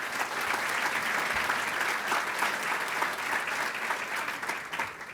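A civic audience at a city's State of the City address breaks into steady, sustained applause, a dense even wash of many hands clapping that continues throughout without speech.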